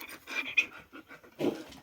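Several dogs panting in quick, breathy bursts close by, with a louder huff near the middle and a heavier gust of breath toward the end.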